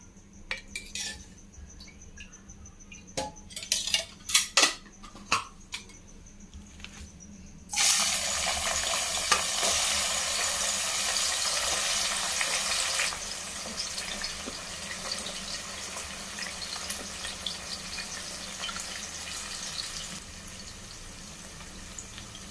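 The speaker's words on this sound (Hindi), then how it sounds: "प्याज को अच्छी तरह से गोल्डन ब्राउन होने तक हम फ्राई कर लेंगे।" A few metal utensil clinks sound first, then onions hit hot oil with a sudden loud hiss that settles into a steady frying sizzle, with occasional pan taps.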